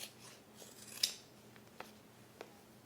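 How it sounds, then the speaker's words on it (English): Scissors trim fabric edges even while sewing a range bag, a few sharp, quiet snips spaced apart over a low background hum. "I'm just going to cut, make sure they're even."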